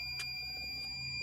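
A steady high electronic warning tone from a Mercedes-Benz OH 1526 bus sounds over a low engine-like hum, with a couple of brief clicks; faint and continuous.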